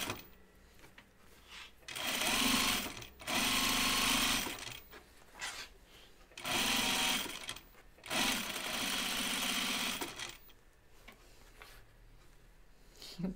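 A sewing machine stitches around the hood perimeter of a Kelly anorak, running in several steady, close bursts separated by short pauses.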